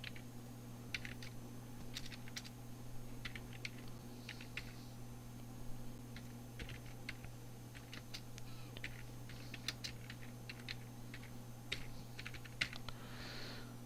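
Close computer-keyboard typing while an Oracle SQL query is entered, sparse irregular clusters of light clicks over a steady low electrical hum, with no voices.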